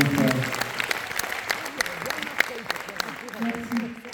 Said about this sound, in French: on va applaudir mon frère.